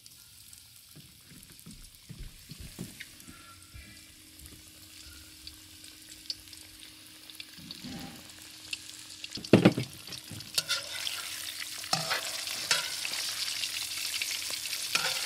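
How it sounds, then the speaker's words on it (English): Salmon fries in oil in a pan, starting quietly and swelling into a strong, close, continuous sizzle with occasional clatter and scraping of a utensil. "I'm going to cook the salmon first. I'm going to put it in oil."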